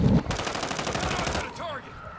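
Call of Duty gunfire: a rapid, steady burst of automatic shots, loud and close, lasting over a second before cutting off, followed briefly by a voice.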